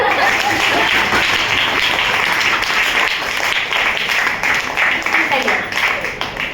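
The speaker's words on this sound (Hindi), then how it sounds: "एक बार जोरदार ताली हो जाए।" An audience at a motivational business talk gives a loud round of applause, thick and continuous clapping that thins slightly toward the end, with some voices mixed in.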